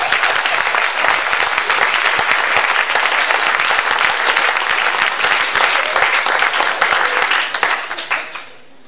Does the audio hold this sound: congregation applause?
yes